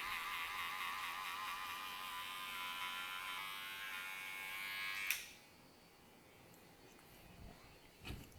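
An electric hair clipper trimming the sides for an undercut hums with a steady, fairly faint high buzz for about five seconds, then cuts off, leaving near silence with a couple of light knocks.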